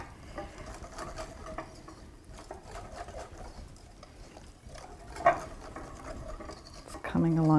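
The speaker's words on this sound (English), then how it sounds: "I'll mix it in with my whisk" A whisk stirs white wine and flour together for taralli dough in a bowl, giving a soft, steady scraping patter at low volume, with a brief voice-like sound near the end.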